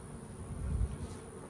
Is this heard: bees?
yes